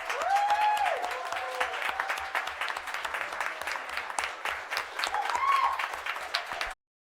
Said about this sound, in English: Please stand and let's give you a round of applause.